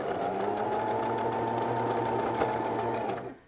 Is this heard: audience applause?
no